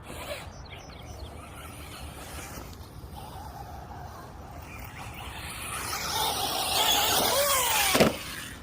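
A 1/10-scale RC trophy truck bogging in mud, its electric motor whining and squealing at full throttle, rising to a strained peak near the end before cutting off.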